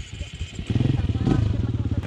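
A Honda Supra X motorcycle engine chugs and revs on a sandy track, throbbing in a steady pulsing rhythm close by, with voices talking over it.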